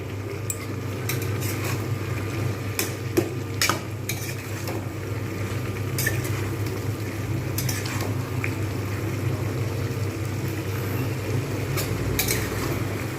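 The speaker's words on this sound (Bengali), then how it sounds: "এবার আমি এর মধ্যে একটু জাস্ট কষিয়ে নেবো, ভালোভাবে কষিয়ে নিয়ে" Spiced masala sautés in oil for a jackfruit and prawn curry with a constant close sizzle, broken by scattered sharp clicks and scrapes of a spatula against the pan.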